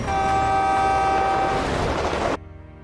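A train stands at a station about to depart and blows a loud, sustained horn blast for about two seconds. The horn cuts off sharply, leaving a quieter rumble of the train.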